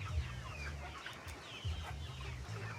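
Pullets around 12 weeks old clucking steadily at a backyard chicken farm in Cebu, low murmuring clucks repeating throughout, close and fairly quiet.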